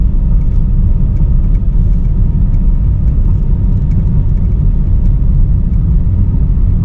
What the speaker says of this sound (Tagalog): So ang mga dumadaan dito, may bus, makita natin yung bus, makita natin yung mga tricycles, mga private vehicles.